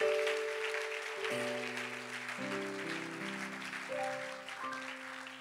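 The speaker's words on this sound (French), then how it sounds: "Acclame pour Jésus, acclame pour Jésus." A church congregation applauding and cheering, a steady wash of clapping and crowd noise under sustained organ-like keyboard chords throughout.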